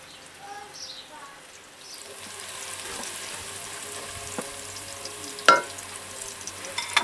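Onions frying in hot ghee in a pot over a village stove, a steady close sizzle that builds and continues, with a few clinks and stirring knocks.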